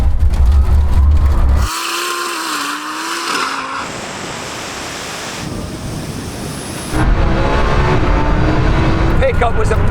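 A Lamborghini Huracan and a Rimac Nevera launch in a rolling half-mile drag race from 30 mph, with loud engine roar and rushing wind, dropping to a lower drone midway before surging again; a voice talks over part of it.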